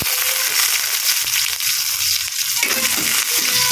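Onion dropped onto reddened garlic in a hot pan for sautéed pechay, giving a loud, dense sizzle and crackle with stirring scrapes throughout, briefly dipping before surging again, with no talking.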